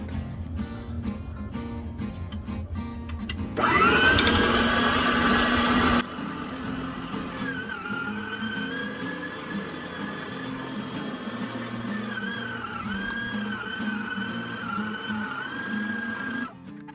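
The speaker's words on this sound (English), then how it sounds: "we're going to throw it through the grinder and get us a good ground brisket" A motorized meat grinder churns brisket chunks into ground meat, running steadily and loudly nearby with a whining motor tone that shifts slightly under load for the length of the clip.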